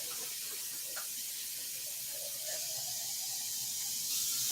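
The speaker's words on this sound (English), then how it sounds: "let me just run some water in this so it won't get hard" Tap water runs steadily into a container at a kitchen sink, a quiet continuous hiss and splash that grows slightly louder toward the end, with no talking.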